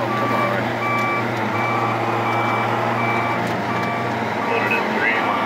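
A truck's reverse alarm beeps steadily in a regular rhythm over a constant engine rumble, close and loud.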